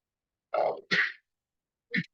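A sneeze bursts out during a classroom lecture on shader programming, two quick loud bursts followed by a shorter third one after a pause, with no talking around it.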